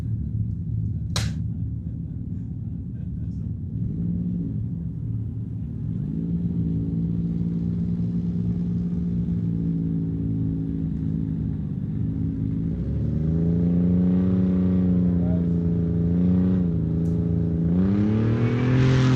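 Hayden Bentley's rally car pulls away at the St George 399 rally, its engine droning steadily, then revving higher through several gear changes as it accelerates off.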